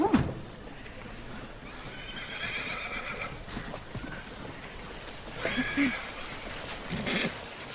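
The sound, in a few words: horse neighing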